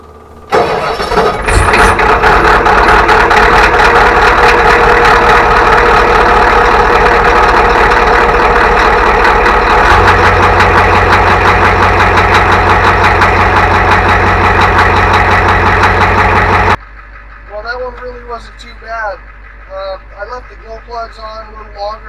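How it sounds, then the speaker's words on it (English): A Ford 7.3 IDI diesel engine cranks over and catches in a mild cold start, then settles into a loud, steady clattering idle that runs for about fifteen seconds before cutting off abruptly, leaving a few faint distant sounds. "so we'll just call this a California cold start"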